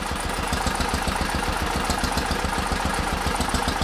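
Old stationary engine, a pump or generator type, running on display at a historical village, a close, loud, steady rhythmic chugging with regular knocking beats and no talk over it.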